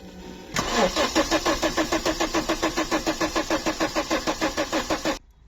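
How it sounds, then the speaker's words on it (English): A modified Volkswagen Polo engine cranks on its starter motor in a steady, rapid rhythmic chug for about four and a half seconds without catching, then stops abruptly. "I'm going to turn this over on the starter"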